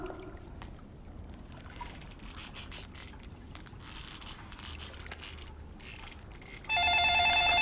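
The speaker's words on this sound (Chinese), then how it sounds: "电话是不是响了？" Soft rustling and watery background noise runs for several seconds before a telephone abruptly starts ringing, loud and close, at the very end.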